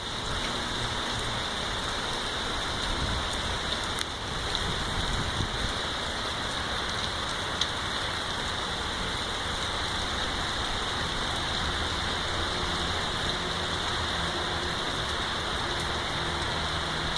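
Heavy rain pours down hard and spills off a roof and out of the gutters during a windy storm, a dense, steady hiss of water with no voices.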